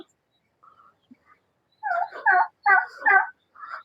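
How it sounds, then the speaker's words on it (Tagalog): Turkeys gobble on a farm in several loud, close bursts in the second half, after a few faint calls, with no talk. "May mga pabo dito. Malalaki na yung pabo dito eh."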